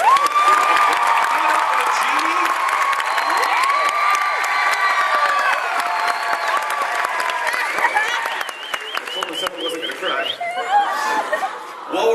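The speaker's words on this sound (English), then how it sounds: "join us in a round of applause to our great hosts" A crowd at an event at the Disneyland Resort claps in a sustained round of applause, dense and steady throughout, with some cheering and scattered laughter mixed in.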